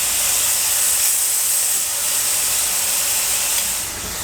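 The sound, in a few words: marinated steak searing in a pan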